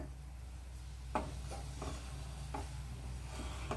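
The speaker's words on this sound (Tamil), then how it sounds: "நல்லா கொதிக்க ஆரம்பிச்சிருச்சு ஒரு ரெண்டு நிமிஷம் கொதிக்கிட்டோங்க" A pan of thick jaggery syrup bubbles and hisses at a steady boil, with occasional scraping stirs against the pan.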